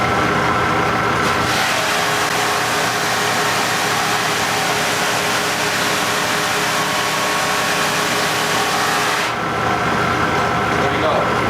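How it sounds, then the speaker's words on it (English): A moulding sander running with moulding fed through it, a loud steady broadband whir that starts abruptly, holds for several seconds, then cuts off, with no talk over it. "We turn the sander on."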